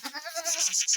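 A Kathiyawadi goat on a farm gives one short, wavering bleat, close and clear, lasting about a second.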